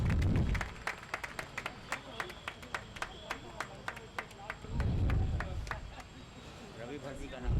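An audience applauds at the inauguration of a university science fest, with bursts of clapping at the start and again near the end and scattered claps in between, all under someone speaking over a PA.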